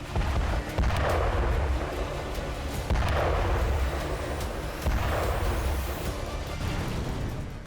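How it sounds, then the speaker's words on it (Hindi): Fateh-110 missiles strike a headquarters building in Erbil, one after another: three heavy, rumbling blasts a couple of seconds apart, each a broad roar that lingers before the next. "एक के बाद एक 6 मिसाइलें इस मुख्यालय पर गिरती हुई नजर आई"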